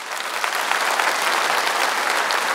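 Steady, dense applause from a comedy festival audience, loud and continuous throughout with no voices over it.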